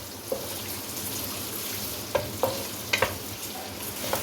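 Sliced medium onion frying in lightly heated oil for chicken pulao, a continuous even sizzle throughout, with a few short clicks and taps of a spoon against the pot scattered over it.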